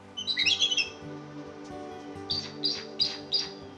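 Eagles in an aviary give a burst of shrill squawking calls, then a series of four short sharp chirps, close and clear over a low steady hum.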